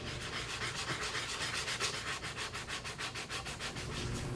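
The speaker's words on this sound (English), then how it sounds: "I stack the dividers to smooth out the curve with some 80 grit sandpaper." Stacked wooden rack dividers are smoothed along a curve with 80 grit sandpaper, a brisk rhythmic scratching of about twenty quick back-and-forth strokes, close and steady, with no voices.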